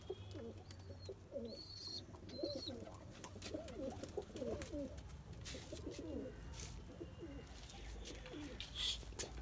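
Pigeons kept in a home courtyard coo softly in repeated throaty phrases nearby, over a low steady hum and a few faint chirps.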